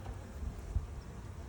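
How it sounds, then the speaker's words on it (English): Honey bees hum steadily around an open hive being inspected with smoke, a low, continuous, fairly faint drone with no voices over it. "Lots of bees."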